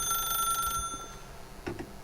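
A telephone in The Stanley Parable video game rings with a bright, sustained electronic tone that cuts off partway through, followed by a couple of faint clicks, moderately loud and alone.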